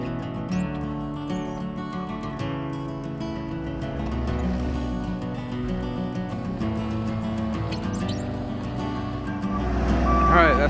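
A semi truck delivering a lumber shipment backs up, its reversing alarm beeping in a steady repeated pattern over a loud diesel engine rumble, with a rising surge near the end; no talking.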